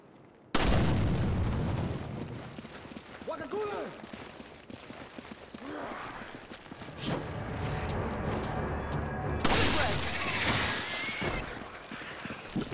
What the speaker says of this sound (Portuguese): Gostou desse tiro, né, chefe?